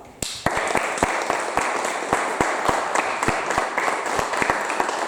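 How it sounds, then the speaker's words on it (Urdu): A church congregation breaks into loud applause, a dense close burst of clapping that continues evenly throughout with a few sharper individual claps standing out. "لیے زوردار تالیاں"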